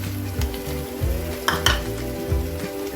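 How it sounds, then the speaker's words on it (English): Curd being stirred in a pan on high flame while cooking Hyderabadi paneer: a continuous loud sizzle with a spoon scraping and knocking against the pan in a steady rhythm, no speech. "We will stir it properly on high flame now."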